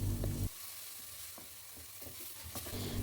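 Onions sizzling and frying in about half a cup of cooking oil in a pot, a steady close crackle with a few stirring knocks, louder at the start and end.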